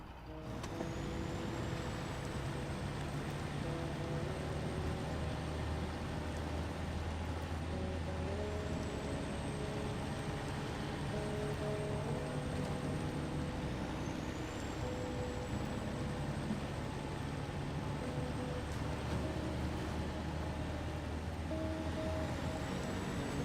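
Steady engine drone of a heavy Western Star 47X truck rolling along in SnowRunner, with a constant low rumble and a high whine sliding in pitch now and then.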